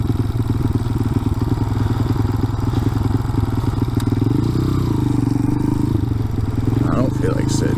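Motorcycles rumble close by with a steady, loud engine drone and clatter. It continues for several seconds, with speech mixed in.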